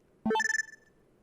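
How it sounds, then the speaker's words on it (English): Cell phone video message alert in the visual novel game Steins;Gate 0, a short bright electronic chime of rising tones followed by a quick trill that fades, clear and alone. "It was the sound of a video message."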